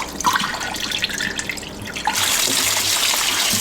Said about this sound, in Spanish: Vamos a echar agüita caliente.